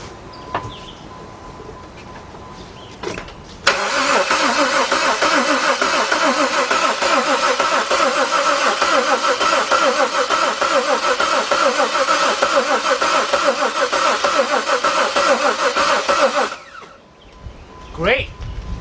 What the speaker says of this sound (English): hopefully this battery's got enough in it to crank this engine over.